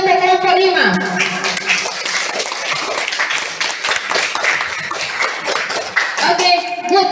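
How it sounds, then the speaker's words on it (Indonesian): A classroom claps for a student group in a burst of mixed applause lasting several seconds, with a teacher's voice heard over it at the start and end. "Tepuk tangan dulu untuk kelompok 5."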